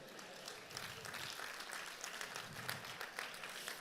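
Audience applause at the closing plenary of a conference, a steady wash of many hands clapping that holds at an even, moderate level throughout.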